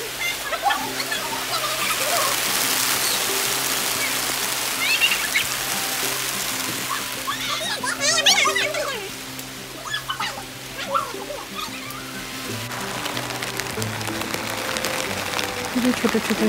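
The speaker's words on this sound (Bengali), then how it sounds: "আপনি একটু বৃষ্টির সাউন্ডটা ফিল করেন। খুবই নাইস একটা সাউন্ড, এবং অনেকদিন পরে এরকম শিলা বৃষ্টি দেখলাম।" A hailstorm brings heavy rain, with small hailstones pattering and rattling in a dense, continuous wash of falling water. A faint voice briefly surfaces midway.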